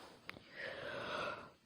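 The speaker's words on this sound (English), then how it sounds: "man, I'm yawning a lot." A person yawning, a long breathy drawn-out exhale with a tonal vocal stretch, preceded by a brief sharp click, heard close and alone without speech.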